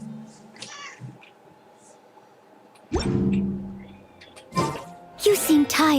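A cat in a room meows and yowls several times, with a louder drawn-out cry near the end, while a person speaks over it and some rustling and background noise run throughout.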